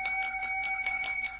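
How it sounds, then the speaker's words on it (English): A small handbell rings in a stage-play setting, giving a quick run of bright metallic strokes with a sustained shimmering ring. It is loud and close, with no talking. "She rings a bell."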